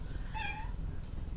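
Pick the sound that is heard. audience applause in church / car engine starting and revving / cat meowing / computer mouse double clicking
cat meowing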